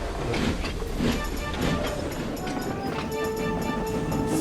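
Steam engine pulling tar wagons in an animated railway story, a steady rolling rumble with rhythmic clatter of wagons on the rails, heard close and continuous.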